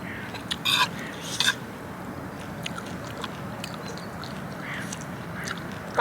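Ducks quack in short bursts near the water at an outdoor waterside spot, a few brief calls over a steady background hiss, moderately near but not loud.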